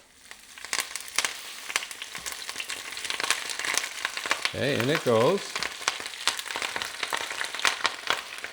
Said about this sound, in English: it's going to sizzle a bit because the rapini is still a little wet